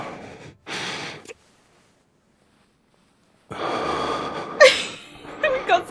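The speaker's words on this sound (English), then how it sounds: "We've got some ASMR breathing going on here." A video game character from Love and Deepspace breathing heavily, with sharp gasps and breathy exhales in two bursts separated by a silent pause.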